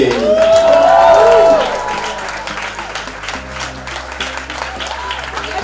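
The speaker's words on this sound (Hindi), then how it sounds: "जोरदार तालियां होनी चाहिए।" Loud applause and cheering from a college festival crowd, strongest in the first two seconds with voices and a squealing tone over it, then settling into continuous clapping beneath music.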